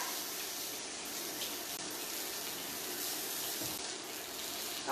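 Tap water runs steadily into a sink during handwashing in a home kitchen, a continuous broadband hiss at close range with no talking over it.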